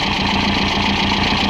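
A car engine fitted with a noisy exhaust drones steadily and loudly from close by, a continuous rough hum with a buzzing, idling character and no pauses.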